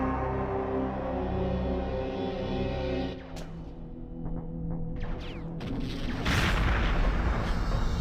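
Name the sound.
gunfire shooting through walls in a video game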